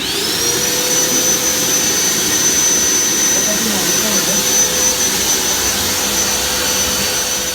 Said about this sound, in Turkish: şimdi bu alanın temizliğini yapacağız. Elektrik süpürgesiyle